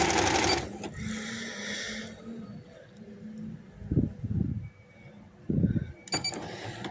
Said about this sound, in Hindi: इसे इसी तरह पकड़ते जाएं और सिलाई लगाते जाएं